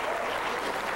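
An audience at a live Halloween horror-movie show in a theater applauds a costumed host. The clapping and crowd noise are dense, loud and continuous throughout.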